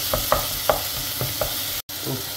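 Garlic cloves sautéing lightly in a pan, a dense steady sizzle broken by several quick spatula scrapes, then a brief cut before the frying resumes.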